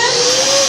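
A vacuum cleaner runs steadily at close range, giving a loud, continuous motor whine with a constant airy roar and no pauses.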